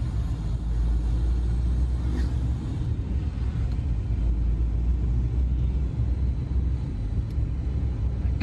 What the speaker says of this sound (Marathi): त्या कात्रज घाटामध्ये लागले ट्रॅफिक.